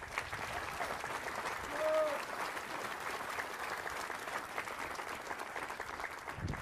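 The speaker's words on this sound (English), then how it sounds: "please, ladies and gentlemen, another round of applause" Audience applause at a military change of command ceremony, a steady sustained clapping from a large crowd filling the whole stretch at even volume, with a brief voice or tone standing out near the middle.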